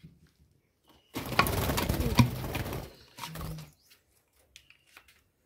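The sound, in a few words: pet birds calling in a cage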